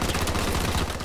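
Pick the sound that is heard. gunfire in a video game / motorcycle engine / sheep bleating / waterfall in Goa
gunfire in a video game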